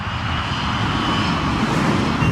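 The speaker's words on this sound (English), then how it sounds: "The operation of pulling the plane up in the missed approach was a very violent one." Avianca 052 Heavy airliner engines during a steep missed-approach climb, a loud, steady broadband roar with a faint high whine running throughout.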